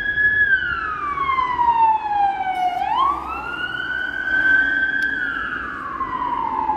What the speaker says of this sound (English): There's another ambulance coming up behind me.